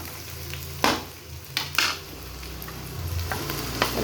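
Jute leaves frying in oil in a pan after onion, garlic and chillies, a constant sizzle broken by a few sharp scrapes and clinks of a spatula stirring, close and with no speech.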